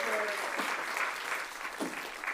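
Applause from an awards event audience, a sustained moderate wash of clapping heard from a distance, with faint voices mixed in.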